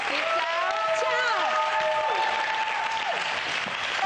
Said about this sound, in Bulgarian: Аплодисменти за Ашли.